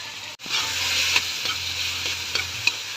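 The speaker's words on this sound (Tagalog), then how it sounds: "igisa natin yung pork" Pork sautés in a pan for monggo guisado, giving a steady, close hiss of frying. Occasional scrape-and-tap sounds of stirring cut through the sizzle after a brief silent gap at the start.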